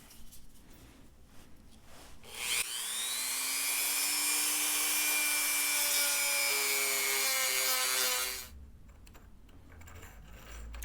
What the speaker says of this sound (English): So I'm going to sneak up on it with the Dremel